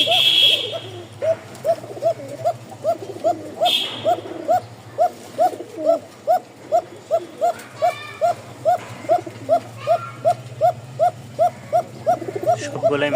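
A Bashiraj pigeon cock coos in a long, rhythmic run of repeated pulses close by, with a few brief chirps and shuffling sounds in the background and no clear speech.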